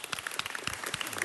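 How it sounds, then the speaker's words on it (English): At a city council meeting, a crowd gives a brief round of applause for girls' team captains: a short burst of brisk, fairly close clapping. "Give them a round of applause"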